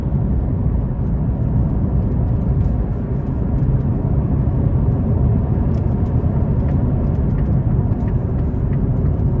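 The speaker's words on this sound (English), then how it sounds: "We'll give it some throttle getting on the interstate here." A 2018 Karma Revero car accelerates in sport mode onto an interstate, giving a steady, dense whir and road roar heard from inside the cabin, loud and continuous with no talk.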